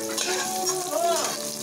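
Onion sautéing in a pan, a bright close sizzle with stirring scrapes over a short stretch, steady and fairly loud.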